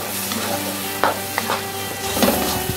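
Tomatoes frying in a pan for a spicy kupang, petai and salted mackerel dish, a loud continuous sizzle with a few sharp stirring clacks, close up and alone without speech.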